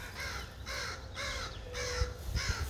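Five harsh caws from a crow, evenly spaced, fairly close, with a low outdoor rumble underneath.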